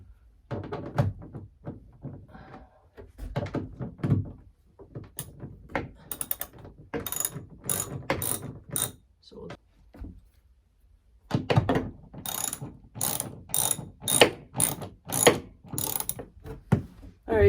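A ratchet tightens nuts on roof rails of a Mercedes Sprinter van in repeated bursts of sharp, close clicking, pausing between nuts, with short runs of rapid ratcheting and occasional knocks.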